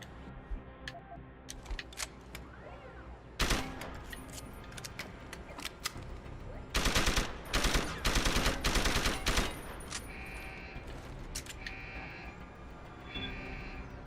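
Machine pistol fire in Deus Ex: Human Revolution, with several short bursts of rapid shots separated by quieter stretches of metallic clicks and game ambience.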